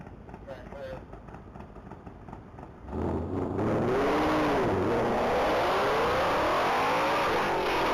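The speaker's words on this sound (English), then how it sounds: "Vehicle 23 is making its way down the track" A race car accelerates down a mile-long top-speed track at the Texas Mile. A loud engine roar builds and rises in pitch as it shifts through gears, following quieter background talk.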